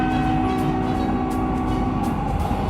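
An LRT train runs at a station with a steady loud rumble and electric hum, close and continuous, without any talking.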